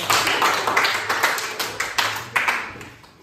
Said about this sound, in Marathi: रोहिणीसाठी एकदा टाळ्या वाजा